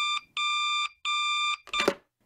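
Phone ringing as a sound effect in a comedy radio drama: three sustained electronic rings with short gaps between them, then a brief harsher burst at the end, loud and close with nothing else underneath.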